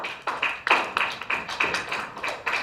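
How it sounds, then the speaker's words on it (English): An audience claps in brief, rhythmic bursts of sharp, close hand claps, with pauses between the groups. No one speaks over it. "3 hand claps."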